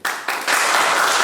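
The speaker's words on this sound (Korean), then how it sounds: "박수 부탁드릴게요" Applause from a forum audience at a regional debate in South Korea, a dense, steady wash of many hands clapping that swells after a brief opening burst and holds loud and full throughout.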